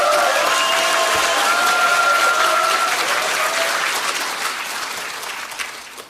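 A crowd applauds steadily for several seconds at a Korean Democratic Party new-member academy event, the clapping holding level before slowly tapering off.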